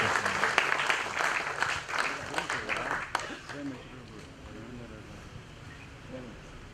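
An audience at a book launch applauds, a dense wash of clapping that fades after a few seconds into quieter room sound with faint voices.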